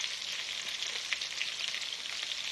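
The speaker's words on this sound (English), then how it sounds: "I'm just kind of sauteing it up in this skillet." Zucchini sautéing in butter in a home skillet gives a steady, even sizzle with soft crackles, close and moderately loud, with no talking.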